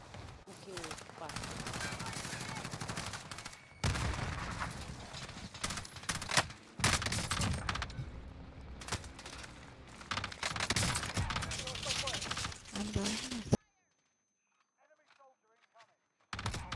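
Gunfire from the Warzone video game crackles in dense, rapid bursts of automatic fire, loud and close, broken by short pauses and ending in a near-silent gap with faint clicks.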